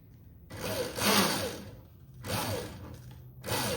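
Electric mountainboard motor, an ETM RTR running on a freshly changed chain, whirs up in three loud bursts, each spinning up and easing off, with no talking over it.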